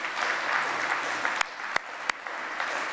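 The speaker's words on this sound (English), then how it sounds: "Please raise your hands high and clap to thank your friends and family watching you." Graduates at a graduate degree ceremony applaud together in a steady, dense wash of clapping that continues throughout, with a few sharper isolated claps standing out near the end.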